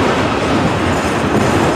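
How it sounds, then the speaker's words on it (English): Norfolk Southern autorack freight train passing at close range in Spartanburg, South Carolina, a loud, steady roar of rolling rail cars with a faint clickety-clack and no voices. "So I've got an Autorack train"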